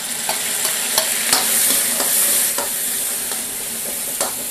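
Loud, continuous sizzling of chopped ginger, bell pepper and pickled chilies frying in hot oil and lard in a wok, with the ladle clinking and scraping against the metal at irregular intervals.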